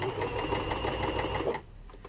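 A sewing machine hums rapidly and close while stitching a gathered fabric flounce for a flower, a steady whirring run that stops abruptly near the end, leaving quiet.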